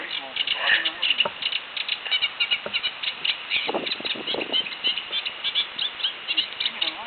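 A small warbler-like bird sings from reeds beside the river Arun, thin chirps and rapid warbling phrases coming in bursts, fairly faint, with people chatting quietly over it outdoors.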